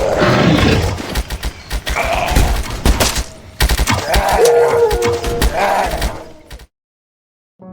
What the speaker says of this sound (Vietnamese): Hãy cùng chiêm ngưỡng những cổ máy chết chóc bắn hạ từng con zombie.